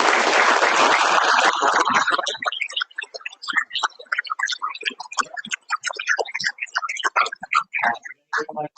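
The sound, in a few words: round of applause at a town board meeting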